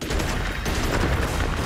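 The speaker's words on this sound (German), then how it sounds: "Ah, guck, wenn sie explodieren" Explosions in the video game Magicka form a dense, continuous burst of crackling blasts, loud and sustained with no clear gaps between them.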